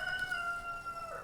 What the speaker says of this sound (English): I heard you, Cornelius. Good morning to you too.